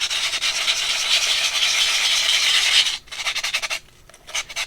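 Sandpaper dipped in liquid rubs over a rusty, pitted carburetor part from a 1983 Honda Magna V45, a steady close raspy scrubbing for about three seconds, then several shorter separate strokes with brief pauses between them.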